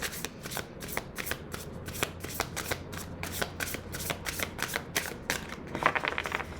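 Tarot cards are shuffled in quick, repeated riffling bursts, a steady rhythm of crisp flutters close by with no talking.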